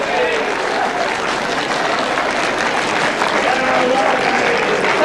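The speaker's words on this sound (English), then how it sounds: "Doesn't the crowd love it?" A crowd applauds a lawn bowls shot at a 1993 sets play grand final, a sustained, dense wash of clapping and cheering lasting several seconds at steady, fairly loud level.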